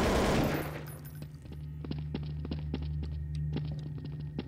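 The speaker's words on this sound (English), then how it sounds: "He's just running around and fucking shooting" Rapid automatic gunfire from a video game, sharp bursts of shots repeating over a steady low background drone, loud and close throughout.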